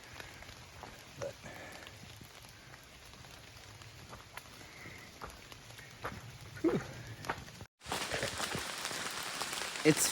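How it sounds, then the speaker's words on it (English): Rain falls on the Appalachian Trail, a steady close patter of drops, much of it shed from the trees overhead, with a brief dropout before a louder, denser burst of rain near the end. "I guess it's starting to rain again."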